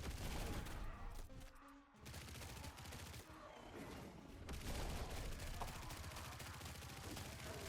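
Continuous rapid gunfire in the video game Grind Survivors, a dense crackling stream of shots with brief gaps, steady and busy with no speech.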